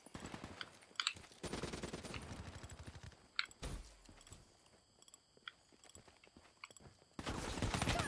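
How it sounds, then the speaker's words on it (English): Automatic gunfire from a Call of Duty: Black Ops 3 hardcore Kill Confirmed match, coming in dense rattling bursts at the start, in the middle and at the end, with game effects between them. "I'm about to shoot you, bro."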